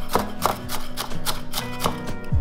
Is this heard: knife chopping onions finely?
yes